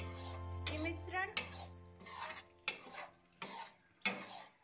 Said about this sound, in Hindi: इस तरह से चला दे रहे हैं